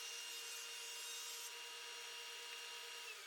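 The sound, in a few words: ripping a glued pine board straight for a sliding door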